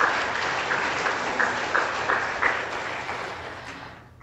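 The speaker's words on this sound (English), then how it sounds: "loud round of applause." Loud, dense applause from a moot court competition finals audience, sustained evenly for about four seconds before tapering off at the end.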